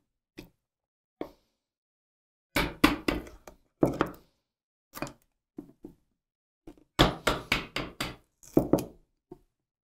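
A chisel struck with a mallet cuts wood for a hidden dovetail joint, producing clusters of sharp, hollow knocks in quick bursts separated by short pauses, close and clear with no voices.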